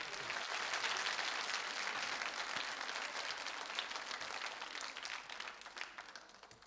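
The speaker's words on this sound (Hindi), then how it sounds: "तालियां जोरों से बजाइए रजनी जी के लिए" A dense, sustained wash of audience applause at a Holi 2012 quiz show, many hands clapping at once, steady and fairly distant, lasting several seconds with no voices over it.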